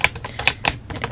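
Scraping inside a mealworm container gives a quick run of dry, clicky rasps, about five short strokes in just over a second, fairly close and with nothing else heard.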